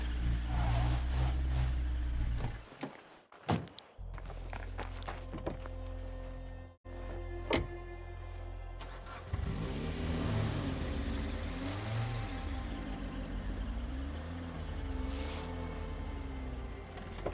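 A car in a video game engine is driven and parked. It revs and hums at mid pitch with a few abrupt thunks and cut-offs, then rises and falls through several revving sweeps. No one speaks.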